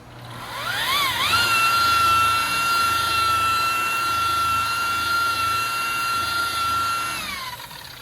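A buffing machine polishes the paint on a car door. It spins up with a rising whine, then holds a loud, steady high-pitched drone for several seconds before winding down at the end, close and continuous.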